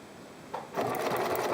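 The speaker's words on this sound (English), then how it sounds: "Sew forward across the pinned opening, stopping to remove the pins as you go." A sewing machine runs forward across the pinned opening of a fleece pet blanket for an animal shelter, the motor starting after a short quiet stretch and then humming steadily and close with no voices.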